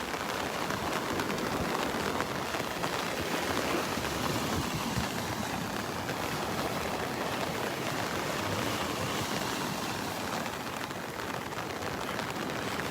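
Heavy, steady rain pours down at Vanderbilt Beach in Naples, Florida during Tropical Storm Elsa, a dense, unbroken hiss that stays loud and even throughout with no voices.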